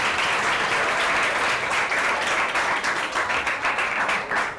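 Audience applause at a group presentation on early ethics, a dense, steady wash of many hands clapping loudly throughout with no talk over it.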